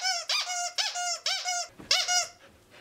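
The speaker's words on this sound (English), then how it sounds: "She's got a tube squeaker, a t-shirt rope, and crinkle paper in her. So, oh, that's quite the squeak." A tube squeaker inside a squirrel-shaped plush dog toy squeaks five times in quick, evenly spaced bursts, each a bright rising-falling squeal, up close and fairly loud with no voices.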